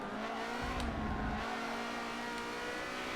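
A car engine in the Forza racing video game drones steadily at high revs, loud and continuous, with a brief surge in the low rumble partway through.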